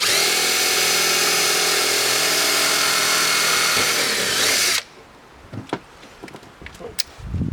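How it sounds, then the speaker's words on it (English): A power drill whines loudly and steadily for several seconds as it bores into a log cabin wall, then stops abruptly, leaving quiet scattered knocks and shuffling sounds. "I will drill a hole in here, pass a screw it through the wall"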